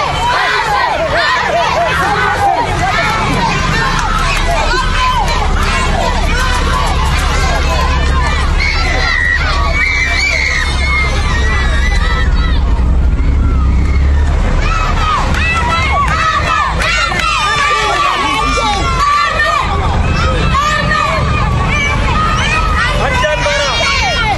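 A large town crowd cheers and shouts as a returning fuel convoy arrives, with children's high shouts and a dense babble of voices, loud and continuous throughout.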